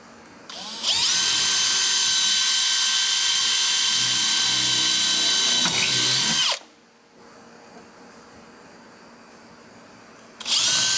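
A power drill whines loudly at a steady high pitch for several seconds while drilling into a door panel of a 79 Series Landcruiser, stops abruptly, then starts up again briefly after a quiet pause.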